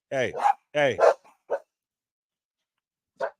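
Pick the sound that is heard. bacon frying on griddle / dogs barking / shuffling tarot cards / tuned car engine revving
dogs barking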